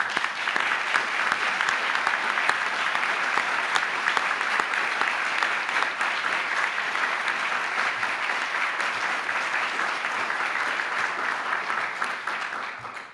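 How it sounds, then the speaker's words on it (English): Audience applause at a health awards ceremony, a dense, even roar of many hands clapping that stays loud throughout and tapers slightly at the close. "So a quick round of applause."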